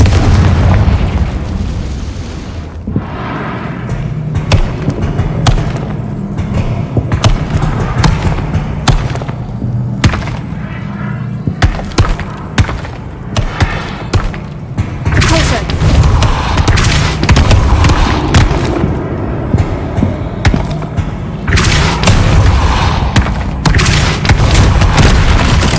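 Confringo spell blasts in a Harry Potter video game: a rapid string of loud, close booms and bursts over 25 seconds, clustered in barrages with short lulls, dense and punchy against a constant rumbling game backdrop.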